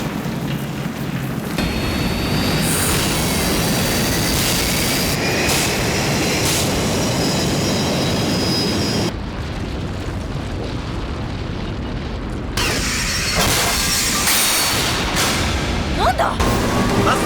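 A huge roaring spaceship engine blast at ignition and launch in the anime Turn A Gundam, with deep rumbling and crackling, sustained and loud, briefly dropping then surging again, with voices faintly over it.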